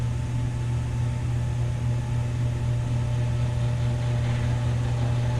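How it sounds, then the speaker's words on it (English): A failing motor on paint spraying equipment used to coat an FJ60 with epoxy primer, a steady low droning hum with a buzzy electrical tone, constant and fairly close, no voices. "Motor's going out."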